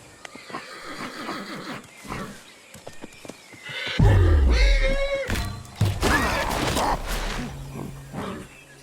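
Horse in the prehistoric survival game Ancestors: The Humankind Odyssey gives a loud, wavering whinny with snorts and rustling over ambient forest sound, brief speech early on.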